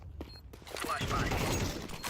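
A flashbang grenade in a shooter video game goes off as a sudden broadband burst, then a dense, roaring rush of noise that holds steady to the end after a few quieter clicks.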